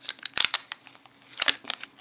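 Paper being unfolded or opened around a Nokia phone battery, giving a few sharp crinkling and rustling bursts in quick succession, close and fairly quiet, with no talking.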